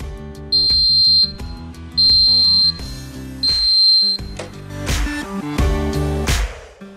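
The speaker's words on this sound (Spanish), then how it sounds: "Y hay que comprobar también el test sonoro. Para ello simplemente hay que presionar el botón durante unos segundos." Smoke detector for fire alarms sounding its test after its button is pressed: three loud, shrill, sustained beeps in a steady on-off rhythm, close by, with background music underneath.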